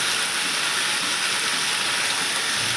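Ground spice paste fries hard in a pan, a loud, dense, unbroken hiss held close throughout the short stretch, with no talking.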